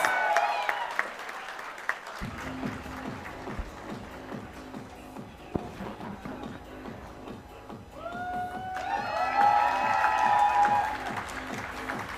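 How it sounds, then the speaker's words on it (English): Audience clapping at an Asia-Africa development conference awards ceremony, steady moderate applause from a seated crowd that swells toward the end, with music or tonal sounds playing underneath. "Please give him a big round of applause"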